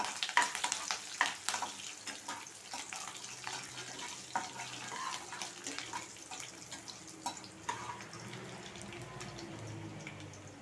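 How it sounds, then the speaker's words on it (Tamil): Peanuts, green chillies and curry leaves sauté in a pan for coconut rice, giving a soft sizzle with scattered stirring scrapes and clinks, fairly faint and steady throughout. "கருவேப்பிலை, எல்லாத்தையும் சேர்த்து கொஞ்சம் வதக்கிக்கலாம்"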